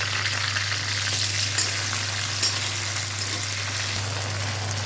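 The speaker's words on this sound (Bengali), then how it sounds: "তেল গরম হলে লঙ্কাগুলো ছেড়ে দিতে হবে।" Green chillies frying in hot refined white oil in a kadai, giving a continuous, even sizzle at close range with a low steady hum underneath and no voices.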